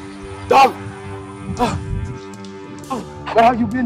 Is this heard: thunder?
no